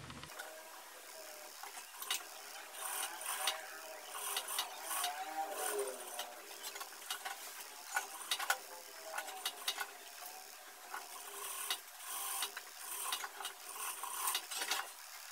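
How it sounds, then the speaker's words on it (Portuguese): Sewing machine running in short bursts as it stitches a holding seam on a wrap blouse, a fairly quiet mechanical whir and clatter with small gaps between runs, heard alone without talk. "Então agora a gente vai passar uma costura batendo aqui pra segurar."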